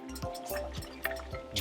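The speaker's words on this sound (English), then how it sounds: "noodles are done, and we're gonna strain it" Cooked rice vermicelli noodles for a Vietnamese salad being strained under cold water, soft close dripping and trickling with a faint clink, fairly quiet and steady.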